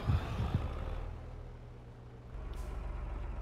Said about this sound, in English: Alright, let's move the tractor here now.